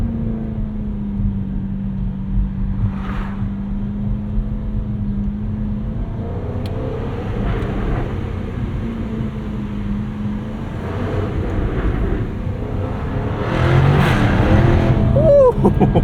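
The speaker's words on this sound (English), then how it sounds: "we're gonna see if we can get a nice crackle under this tunnel, or excuse me, bridge." A 2023 Jaguar F-Type R, all-wheel drive, in first gear under a bridge, holds a steady engine drone that swells into louder revving toward the end, with brief pops hinting at exhaust crackle.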